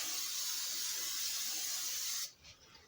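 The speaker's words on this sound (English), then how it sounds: "Just spray some vegetable oil, spray on it." A steady hiss of aerosol vegetable oil cooking spray onto a cookie sheet lasts a couple of seconds, then cuts off, followed by a short clatter.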